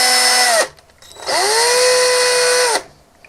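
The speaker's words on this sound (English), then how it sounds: "I'm just going to drill this hole into the little tab here" A power drill whines in two bursts while boring a hole into a small plastic tab on a vintage Denys Fisher Cyborg Cybo-interceptor toy, the first short and the second longer with a dipping pitch as it bites, close and loud.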